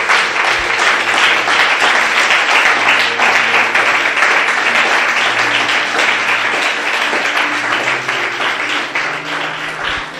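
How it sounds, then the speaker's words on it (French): A church congregation claps and cheers for Jesus, a loud, dense wall of applause with crowd voices sustained throughout and tapering slightly near the end. "Donne ta meilleure acclamation à Jésus"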